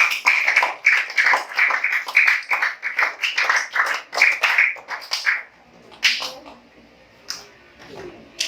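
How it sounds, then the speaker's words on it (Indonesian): A primary-school class of fifth graders claps together in a quick, rhythmic patterned burst for pupils who answered, lasting several seconds before a few scattered claps and quiet classroom sounds follow. "Kasih tepuk tangan dulu buat yang sudah jawab."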